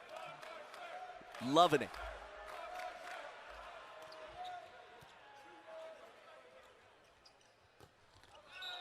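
Crowd noise from spectators on the sideline of an NCAA men's volleyball match, a steady arena murmur with a loud ball bounce and shouts early on, heard under a commentator's voice.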